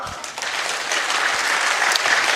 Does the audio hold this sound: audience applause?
yes